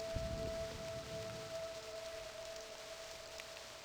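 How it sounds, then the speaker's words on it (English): Rain in the video game realMyst: Masterpiece Edition, a steady soft hiss of falling rain with a faint sustained tonal hum running underneath. "Hopefully it doesn't keep raining."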